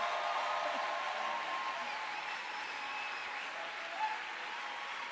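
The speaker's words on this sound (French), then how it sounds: "Acclamons encore bien le Seigneur." A church congregation applauds, a dense steady wash of clapping from many hands that stays even throughout, with no break.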